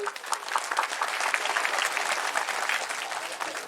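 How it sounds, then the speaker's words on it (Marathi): Audience applause at a school felicitation event: a dense, steady burst of clapping from a crowd, loud and sustained throughout with no break. "आज टाळ्या जरा जोरदार झाल्या"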